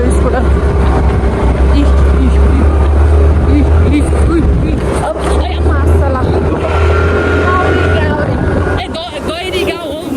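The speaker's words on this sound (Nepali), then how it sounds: "झन् चढिरहेको छ यो स्कुटर" A scooter engine strains loudly up an off-road hill, a steady drone under heavy wind buffeting, with a person talking over it.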